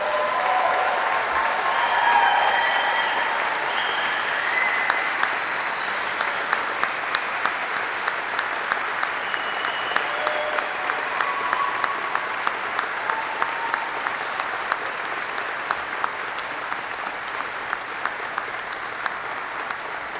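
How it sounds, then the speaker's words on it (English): An audience applauds at a U.S. Army flight school graduation for new aviators, sustained loud clapping from a large crowd lasting about twenty seconds, with crisp individual claps popping out above the continuous roar. "Please join me in a round of applause for the Army's newest aviation warfighters."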